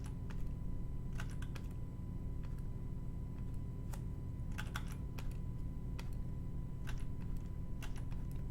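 Typing on a computer keyboard while editing text in Photoshop, with irregular bursts of clicky keystrokes over a steady low hum, close and moderately quiet.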